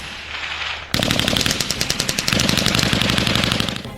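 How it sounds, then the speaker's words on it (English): Heavy weapons firing during a military field fire exercise, loud rapid bursts of automatic gunfire rattling continuously after an initial low rumble, close and without talk. "To orient the cadets with different heavy weapons, they are taken to an exercise for a couple of days, namely field fire."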